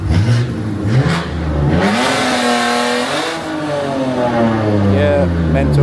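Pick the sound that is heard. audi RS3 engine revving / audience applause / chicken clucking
audi RS3 engine revving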